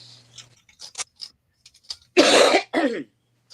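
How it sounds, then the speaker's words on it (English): After a few faint clicks and small noises, a person nearby gives two harsh, rasping coughs in quick succession. "her cough sounds horrible"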